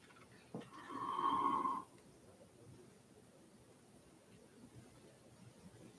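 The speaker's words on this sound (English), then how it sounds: "Anybody hear that extra air come out?" Forced exhalation, extra air pushed out of the lungs during a breathing exercise at a retreat: one rough, breathy push of about a second, close and moderately loud, then quiet room tone.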